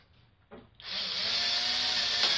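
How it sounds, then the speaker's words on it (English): A cheap Black & Decker drill bores into plywood for a boat build: after a couple of short bursts it settles into a loud, steady, close motor whine as the bit cuts, with no talking. "really chintzy Black & Decker drill here"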